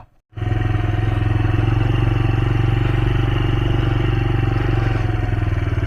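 A motorbike engine runs on a muddy path through a bamboo grove, starting after a brief silence, then holding a loud, steady, close chugging drone with a faint rattle until the end.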